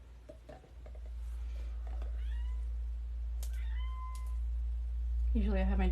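A house cat meows insistently at a closed door indoors, several drawn-out, rising meows spread across a few seconds, fairly close and clear over a low background hum.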